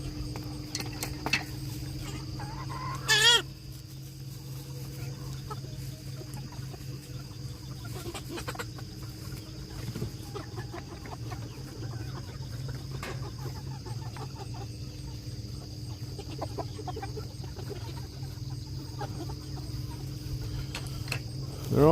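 Meat chickens being herded to bed on a small free-range ranch cluck softly and steadily over a constant hum of insects and crickets, with a brief louder squawk early on.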